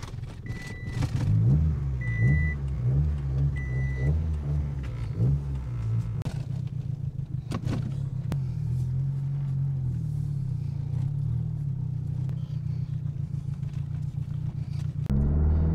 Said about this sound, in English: She is even sporting a beautiful Apocalyptic muffler.